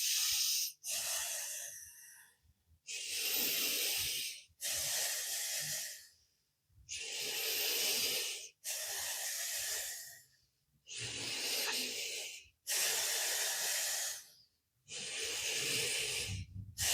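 Dynamic yoga breathing: a steady run of forceful, hissing breaths, each lasting about a second and a half and separated by short silences, close and alone with no talk.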